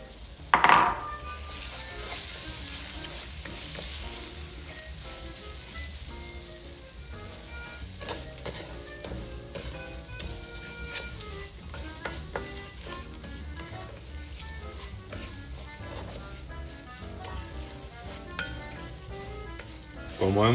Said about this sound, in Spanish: Este proceso justo de echar el arroz así se llama nacarar.